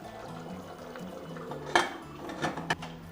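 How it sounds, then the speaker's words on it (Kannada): A pressure cooker lid set onto the cooker in a home kitchen while cooking rice dish, giving a few close metallic clanks and scrapes over a steady low background hum. "ಈಗ ಕುಕ್ಕರ್ ಕ್ಯಾಪ್ ಹಾಕಿದ್ರಿ"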